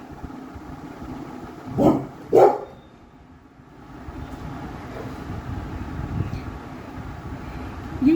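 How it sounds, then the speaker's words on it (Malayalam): A dog barks twice in quick succession at close range, loud against a quiet background with faint distant rumble. "ആരോടൊക്കെ ഉണർന്നിട്ട് ഇങ്ങനെ കുരയ്ക്കാണ്"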